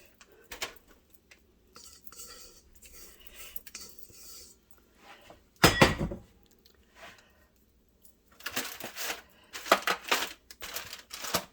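Cake bar batter in a sprayed pan being pressed down with a spatula, giving soft scraping and tapping scrapes with a few sharper clinks of utensil against the pan, intermittent and close, with no talking.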